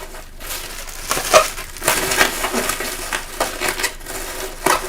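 Bubble wrap crackling and rustling as it is crushed and stuffed into a sewn fabric bag, a close, irregular series of crinkles and crisp pops.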